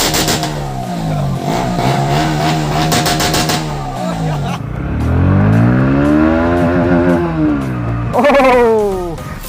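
A Bajaj Pulsar NS160 BS6 motorcycle with its exhaust removed revs hard and loud right by the microphone, the engine rising and falling in pitch through several throttle blips, with a voice briefly under the noise.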